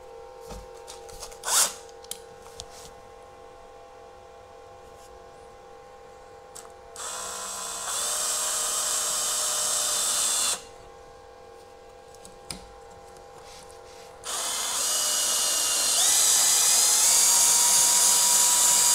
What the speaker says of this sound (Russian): сейчас на пару шурупов приделаю и попробую одеть